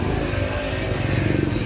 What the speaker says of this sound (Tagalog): May set tayo ulit na Wave 125 na makina.